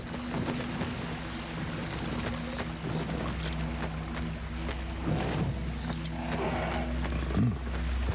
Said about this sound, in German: Das war ein Tiger.